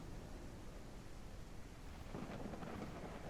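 A thunderstorm with rain in the Ranch Simulator video game, a faint steady hiss of rainfall and wind with a low rumble of thunder swelling near the end, no voices.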